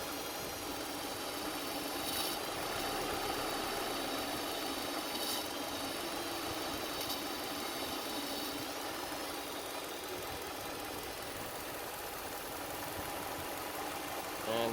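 A 2005 Subaru Forester XT engine idling while Seafoam is fed in through a hose, a steady even mechanical hum with faint ticking, recorded close up.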